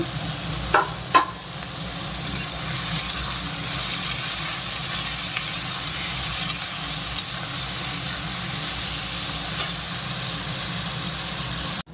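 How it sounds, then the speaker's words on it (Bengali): Potatoes fry in a pan with salt and turmeric, giving a steady, soft sizzle with a couple of brief clatters near the start, then continuous low hiss throughout. "অল্প করে লবণ, অল্প একটু হলদি দিয়ে এটা ভাজবো।"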